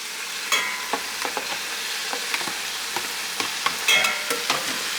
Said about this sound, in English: give it a quick stir to mix everything up